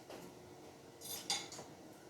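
Cutlery and kitchen utensils clink and rattle while someone reaches for a whisk, a short burst of metallic clatter with one sharper clank, fairly quiet and close, with no talk.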